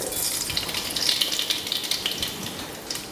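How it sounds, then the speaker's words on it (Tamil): Steady crackling sizzle of fenugreek and mustard seeds frying in hot oil, with dense high hiss and small pops throughout, close and moderately loud. "வெந்தயமும் கடுகும் பொரிஞ்சிருச்சு"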